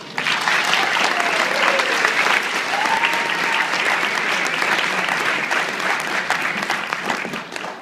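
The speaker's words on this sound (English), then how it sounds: "I think they deserve a round of applause." Wedding reception guests give the couple's parents a round of applause, a full, continuous burst of clapping that holds steady and begins to thin toward the end.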